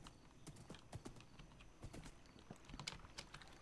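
Horse hooves clip-clop in Minecraft, a steady run of light, close taps repeating at an even pace with no talking.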